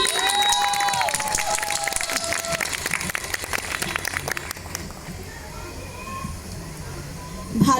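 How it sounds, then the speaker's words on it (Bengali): A live audience claps and cheers loudly for a whistling performer at a stage event, dense applause filling the room and tapering off near the end. "সুরেলা শীষ দেওয়ার জন্য অরণ্যর জন্য একটা খুব জোরে হাততালি"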